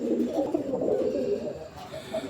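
A female fancy pigeon coos in a steady, close run of low, rolling calls from a Bangladeshi pigeon market stall, with no talk over it.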